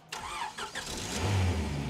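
A Honda Integra Type R engine starts and settles into a running idle close by, a rising mechanical roar after a brief quiet moment.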